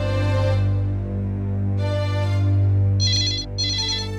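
A phone rings with an electronic ringtone, a steady tonal melody repeating in short bursts, loud and close indoors, with no talk during the ringing.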